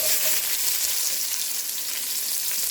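Onions and garlic fry with beef tips in a pan over a low flame for beef stew, giving a loud, dense, continuous sizzle up close with no talking.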